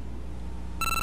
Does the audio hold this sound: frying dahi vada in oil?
no